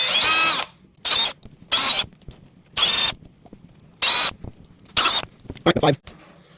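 A power drill fitted with a 1.5 mm bit backs screws out of a Losi Mini LMT RC truck in short, loud whirring bursts, about six quick spins separated by brief pauses.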